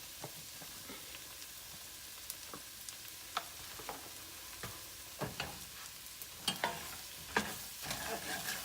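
Sausage gravy thickened with flour gets stirred in a pan, a spoon scraping the bottom in scattered strokes over a soft background sizzle, close and fairly quiet.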